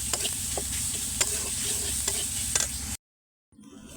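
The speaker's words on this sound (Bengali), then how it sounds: "সুন্দর করে ভাজা ভাজা করে নিব" Chicken filling with tomato sauce fries and gets stirred in a pan, a steady close sizzle with scraping spoon strokes for about three seconds before cutting to silence, then faint sound returns.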